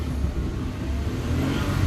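A 1998 Honda Accord accelerates in first gear, a low, steady engine drone heard from inside with no talk.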